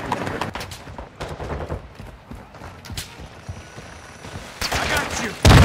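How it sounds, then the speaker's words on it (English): Sniper and rifle fire in a video game shootout, sharp cracks scattered irregularly through the scene, some close and loud, others more distant, with a heavier burst at the end. "Guys are sniping!"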